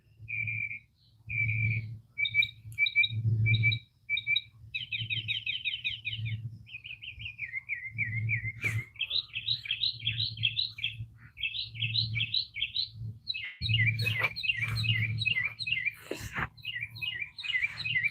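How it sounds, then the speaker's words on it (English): Several birds sing and chirp outdoors in bright, repeated trills and whistles, fairly close, over a low steady hum with occasional soft thumps. "listen at the birds, y'all. Don't they sound good?"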